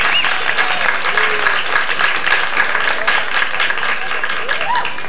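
An audience at a live band show applauds the trombone player, with dense, steady clapping and some cheering held at a constant level for several seconds.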